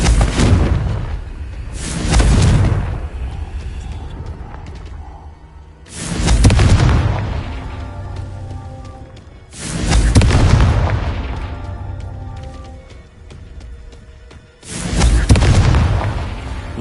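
Confringo blast spells detonate in Hogwarts Legacy: four loud, booming explosions spaced a few seconds apart, each a broad burst that decays into rumble, with a quieter ambient bed in between.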